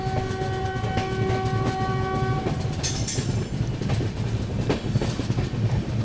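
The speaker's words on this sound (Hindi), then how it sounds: "ये तो नॉर्मल गुड्स ट्रेन लग रही है।" A goods train rumbles past on the opposite track, heard from aboard a moving Shree Mata Vaishno Devi–Gandhidham Sarvodaya Express on a Punjab line toward Bathinda. The roar is loud and close, a horn sounds at the start, then wheels clatter with a burst of screech.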